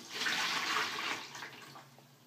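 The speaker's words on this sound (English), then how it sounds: "pour your water from the tank into your bigger bowl or container" Water poured from a fish tank into a larger bowl for a goldfish, a close, steady splashing pour that swells early and gradually tapers off, with no talking.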